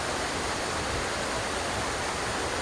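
Waterfall at Belkal Gopala Theertha in Tulunadu, a steady broadband roar of rushing water that stays even and unbroken throughout, with no voices.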